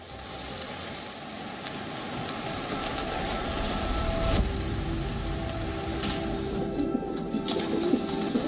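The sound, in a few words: wild pigeons cooing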